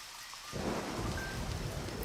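Steady rain hisses in heavily after a brief quiet moment, with a low rumbling bed like distant thunder underneath, continuous and fairly loud, in the video game Deadly Premonition.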